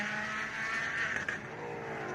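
A race car drives into turn 11 during a time attack session at the GRIDLIFE Midwest Festival. Its engine holds a sustained, moderately distant whine with a short flutter partway through.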